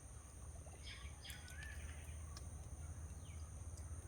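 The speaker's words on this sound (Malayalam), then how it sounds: "കിളികളുടെ ശബ്ദങ്ങളും" Faint bird chirps and short tweets come and go over a low steady hum and a high constant whine, fairly distant and quiet.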